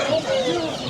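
Week-old Australorp chicks and young turkeys at a poultry market give thin, high chirping peeps over a brief busy background, with voices nearby.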